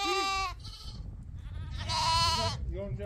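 Young lambs kept at a village home bleat close by, with two loud wavering calls and a fainter third one, over a low rustling background.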